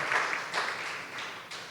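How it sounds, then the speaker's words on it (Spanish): A church congregation applauds at a Spanish-language sermon, soft distant clapping swelling in a few waves, faint and diffuse with no voices over it. "¿Cuántos le dan un aplauso a papá Dios por eso?"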